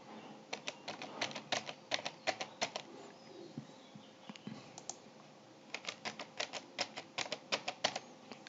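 A password is typed on a computer keyboard in two quick bursts of close, crisp key clicks separated by a short pause, with no voices.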